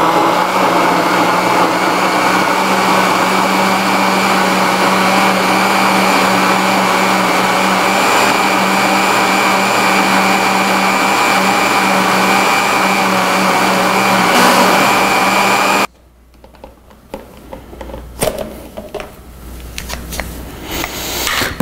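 A countertop blender whirs loudly and steadily while blending sweet potato milk with filtered water, running continuously for about sixteen seconds before cutting off abruptly, leaving quieter irregular clatter and handling noise.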